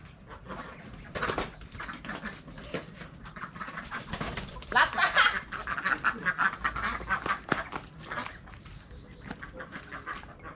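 Ducks quack repeatedly in the background amid a busy outdoor mix of voices, birds and rustling, the quacks fairly faint and scattered.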